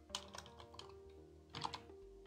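Quick bursts of keystrokes as a perfume name is typed on a computer keyboard, close and clear, with irregular clusters of clicks and no talking.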